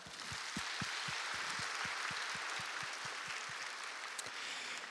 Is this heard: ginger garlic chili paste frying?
no